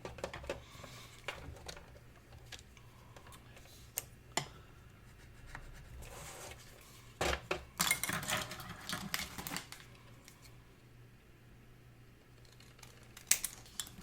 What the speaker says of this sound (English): And I didn't cut these off, so let me cut them right quick.